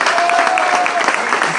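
Audience applause at a key-handover ceremony, a brief dense burst of many hands clapping, loud and close, with a faint voice under it.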